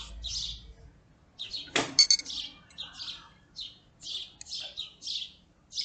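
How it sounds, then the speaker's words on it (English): Small birds sing outdoors in a series of bright, repeated chirps and short phrases, fairly close, with a brief clatter partway through and no talking. "I'm glad I have the birds singing."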